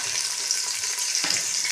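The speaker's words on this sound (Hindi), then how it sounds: "यहाँ पे हमारा तेल गर्म हो रहा है। यहाँ पे हम शामिल कर देंगे प्याज" Chopped onions fry in hot oil with a bright, hissing sizzle that stays steady and close, with a brief stir or shuffle near the end.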